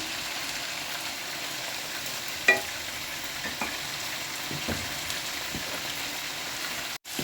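Spices for chicken ghugni sauté in a pan with water added, giving a steady frying sizzle with occasional stirring scrapes and one sharp clink early on.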